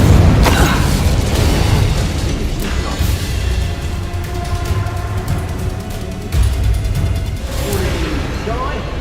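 Dense roaring whoosh of the Incendio fire spell in Hogwarts Legacy, loud and continuous with crackling bursts and booming impacts layered through the combat.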